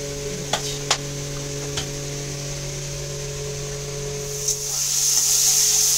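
Prawns fry in mustard oil in a pan. A few faint clicks and a low steady hum come first, then a loud sizzle bursts in near the end and holds.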